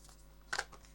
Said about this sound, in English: these cards are huge, so they're really hard to shuffle